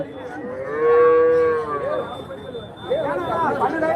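Cattle and young calves at the Karimangalam cattle market in Dharmapuri district low in long drawn-out moos, one loud bellow then more overlapping calls, with market chatter in the background.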